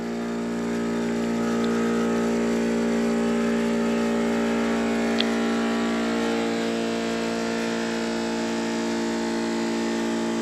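An Aquarobo diving hookah compressor motor runs steadily as its hose pressurizes, giving a constant mechanical hum with strong tonal whine and no pauses, close and even from start to finish.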